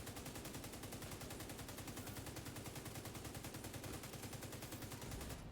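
Rapid, continuous video-game gunfire, including sniper shots, rattles steadily and evenly at moderate level throughout, with no pauses or talk.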